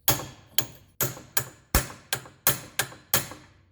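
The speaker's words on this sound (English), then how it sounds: "Get a smaller ball peen and tapa tapa tapa." A small ball peen hammer taps a wheel bearing into the hub bore of a 2009 Subaru Forester, nine sharp metallic strikes in a steady rhythm, close and loud, each decaying quickly, with no talking.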